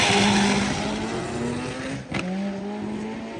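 A Dodge SRT-4 accelerates hard down a drag strip on its last pass of the night, its engine loud and close, pitch climbing through a gear with a brief dip at the shift before rising again.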